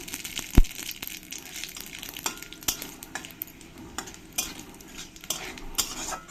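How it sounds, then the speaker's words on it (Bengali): Dry chillies and radhuni seeds spit and crackle in hot oil, a dense close sizzle broken by sharp pops and several light utensil clicks against the pan. "রাঁধুনাটাকে ভালো করে আমি ফুটিয়ে নেব যখন চটর পটর করে রাঁধুনিটা ফুটবে"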